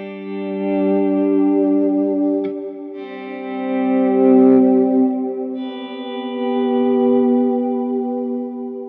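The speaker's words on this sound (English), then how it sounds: "let's try a few swells with this sound. What we did was we added a little bit of the Prestige just to give a little edge" Electric guitar swells run through a GFI System Specular Reverb pedal with its Prestige drive blended in for a slight edge: three slow-rising sustained chords bloom into a lush, washy reverb tail, smooth and continuous with no voices.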